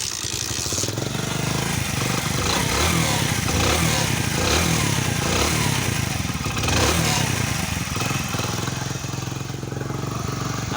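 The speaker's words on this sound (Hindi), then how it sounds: "इसमें टैपेड का नॉइज़ आ रहा है," A Hero Honda Splendor Plus motorcycle engine with valve tappet noise runs steadily at idle, a continuous mechanical chugging with a fast, even ticking rattle, close and alone.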